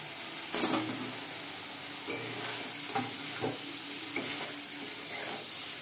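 Katla fish head frying in a spice masala that has begun releasing oil, for moong dal: a soft, steady sizzle with a sharp clatter near the start and scattered scrapes and stirring knocks from a nearby pan.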